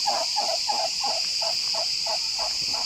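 Insects trill in a regular pulsing rhythm on a hot August day, a dense steady high whine underneath repeated rasping chirps, with no voices.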